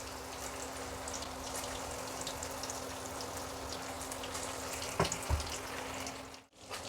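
Chilli chicken pieces fry in a kadai over a high flame with a steady, close hiss and crackle of oil, broken near the end by a couple of brief clunks.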